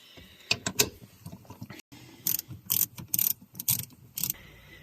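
A ratchet wrench clicks in short bursts while 12mm bolts are loosened from the shifter assembly of a Honda CR-Z, close and fairly quiet with pauses between the runs of clicks.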